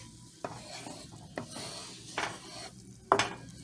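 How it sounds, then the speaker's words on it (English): A utensil stirring Parmesan into Cajun shrimp pasta in a pan, with a few distinct scraping and clinking strokes spaced irregularly over a faint sizzle, close by. "Just keep on mixing. Mix it up real good."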